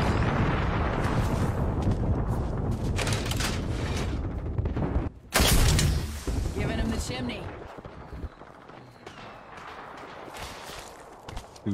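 Video game artillery bombardment, heavy rumbling explosions rolling one after another, loud and dense, with a sharp blast midway and a quieter, fading tail; voices talk over the barrage.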